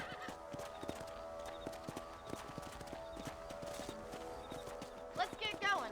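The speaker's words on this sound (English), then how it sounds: "Probably have more damage to the crops with my horse than those rabbits ever did." Horse hooves clip-clop steadily in Red Dead Redemption, a regular rhythm of hoofbeats across farmland crops with a whinny near the end, under game music and background voices.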